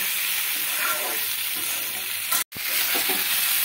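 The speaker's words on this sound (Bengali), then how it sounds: "এভাবে মশলার সঙ্গে আমি লবণ দিয়ে আবারও 2-1 মিনিট এটাকে কষিয়ে নেব" Potato and pointed gourd fry with spices and salt in a pan, giving a continuous loud sizzle with stirring, broken by a brief silent gap midway before the frying resumes.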